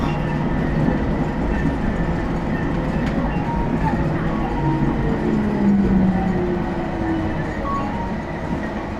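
A Bangkok Gold Line electric train pulls into Charoen Nakhon station, heard from inside as a continuous loud rumble with rolling wheel noise and a faint squeal, and someone talking softly over it.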